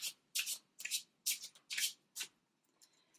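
Tarot cards riffled and shuffled by hand in a series of six or seven crisp, papery bursts with short pauses between them, close and clear in a quiet room.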